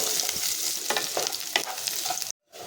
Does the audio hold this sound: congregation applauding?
no